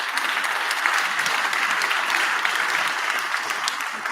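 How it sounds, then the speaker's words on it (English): An audience claps at the Lawyers for Lawyers award ceremony as a jury member is welcomed on stage, a steady wash of many hands that stays even and sustained throughout. "with a big round of applause, ladies and gentlemen."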